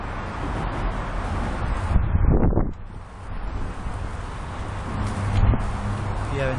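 Gusts of wind blowing across an outdoor tennis court during a match, a rushing buffeting roar against the microphone that swells in bursts, with no speech over it.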